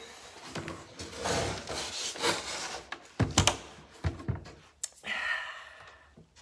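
Wood being scraped on a 200-year-old clock during restoration, with close, irregular rasping strokes and rubbing, some short sharp scrapes in between, and no voices.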